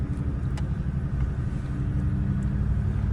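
A car engine held in first gear on a steep hill descent at Mount Borah, giving a steady low rumble with the window down and some faint outside air noise, loud and close throughout.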